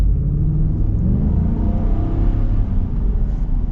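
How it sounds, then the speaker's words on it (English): A 2024 Ford F-350 Tremor pickup with the 7.3L Godzilla V8 accelerates hard, a steady loud low engine rumble building continuously close by with no talk. "We'll get our acceleration here."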